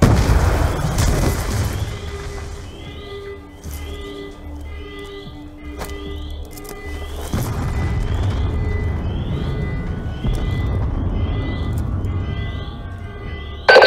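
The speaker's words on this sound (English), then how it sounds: "We're monitoring multiple explosions across the facility." Deep booming explosions in the game Call of Duty: Black Ops 2, a heavy blast followed by rumbling and repeated electronic chirps over a low, continuous roar.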